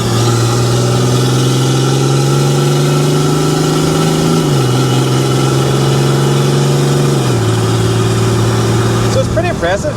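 A Mercedes 190E with an OM606 diesel and 8HP70 automatic gearbox drives along, its loud, close engine drone holding a steady pitch and stepping down audibly at two gear changes.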